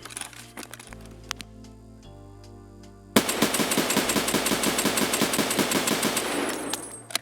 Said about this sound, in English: I want to show you guys how good the hip fire is